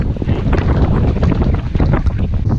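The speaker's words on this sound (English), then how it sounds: "We have 25 knots. 25 knots of wind." Strong wind of about 25 knots buffeting a sailboat at sea, a loud, continuous roar of gusts and microphone wind noise mixed with rushing water, with no speech.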